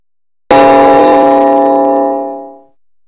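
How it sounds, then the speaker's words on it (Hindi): A single loud strike of a temple bell at the Ayodhya Ram Mandir entrance, ringing with rich sustained overtones that hold steady before fading out over about two seconds, with no voices. "घंटा बजाइए"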